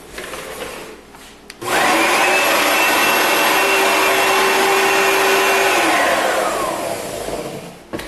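An Oreck HEPA lightweight bagged upright vacuum cleaner switches on with a sudden loud whirring roar, runs steadily for several seconds, then winds down in a falling whine after switching off.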